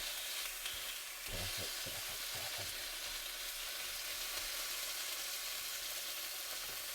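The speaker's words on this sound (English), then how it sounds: "I think I can turn this steak now" Steak turned in a pan on a campervan stove sizzles and hisses loudly and steadily, with a few brief scraping and clattering touches as the meat is flipped.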